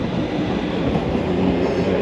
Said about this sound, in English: I wanted to catch this train,